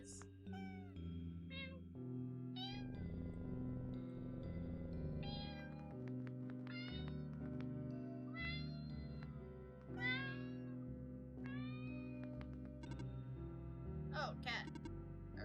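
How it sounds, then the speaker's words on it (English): Several cats meow in the video game OneShot, a run of short and rising mews scattered over soft game music and ambient tones. "Kitties."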